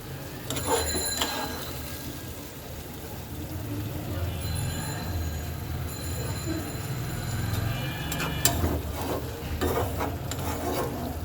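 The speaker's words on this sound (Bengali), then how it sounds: "তো আমি এখন নেড়ে দেব মাংসটাকে কিন্তু খুব সুন্দর করে কষাতে হবে" Country chicken curry is stirred in a sizzling pan, a continuous low rasping and scraping of the spoon with a few metallic clinks near the start and end, with no voices heard.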